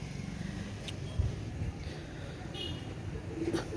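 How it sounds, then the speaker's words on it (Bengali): Pigeons, including a yellow-eyed breed, coo softly in short low notes at a loft. The cooing sits amid background noise, and a passing vehicle can be heard faintly. "এটা হচ্ছে চোখ হলুদ কবুতর"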